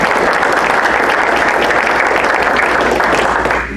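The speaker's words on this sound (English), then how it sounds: "Hey, Larry, let's give Jim a big round of applause." A roomful of people at a Rotary Club meeting in Jonesboro-Sanford, North Carolina, breaks into steady, sustained clapping that stays loud and even for several seconds before tapering off at the very end.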